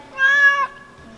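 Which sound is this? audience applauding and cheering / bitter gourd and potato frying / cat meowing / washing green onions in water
cat meowing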